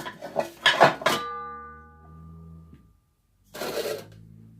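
A metal baking pan is set down and handled while making unleavened bread, giving a few loud clattering knocks followed by a ringing metallic tone that slowly fades, then another brief clatter.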